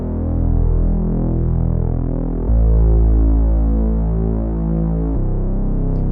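A Reese bass in the Serum synth, layered with a sine sub, drones thick and buzzing with a slow phasing throb, holding three long notes that switch abruptly, loud and alone.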